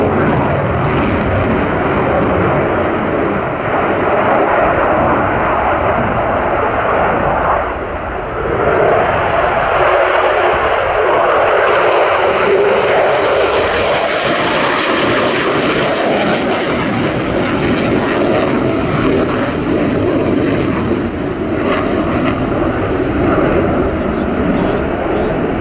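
A Sukhoi Su-27 fighter jet accelerates hard, giving a loud, sustained broadband engine roar that swells and holds for the whole stretch, with a brief hissing rise partway through.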